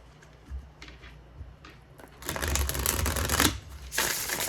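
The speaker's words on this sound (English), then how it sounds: "I am going to start by shuffling" A deck of reading cards is shuffled by hand, with a couple of faint riffles early on and then a louder, dense riffling burst that pauses briefly and resumes, close to the listener.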